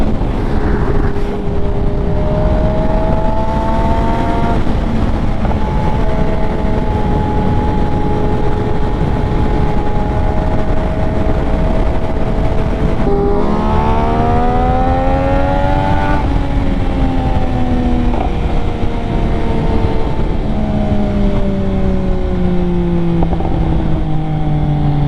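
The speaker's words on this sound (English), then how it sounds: "That SC Project Exhaust is singing today." MV Agusta motorcycle fitted with an SC Project exhaust, revving repeatedly with rising and falling engine pitch that climbs sharply midway, loud and close, with no talking.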